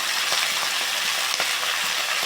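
Chopped veld grape (pirandai) sautéing in a pan for pickle with rock salt, giving a steady close sizzle and crackle with faint occasional pops, no voices.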